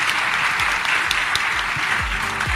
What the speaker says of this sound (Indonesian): Boleh minta tepuk tangannya sekali lagi.